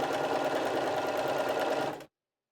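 A Bernina 380 sewing machine stitches a buttonhole in a rapid, steady mechanical chatter, close and even, stopping abruptly after about two seconds.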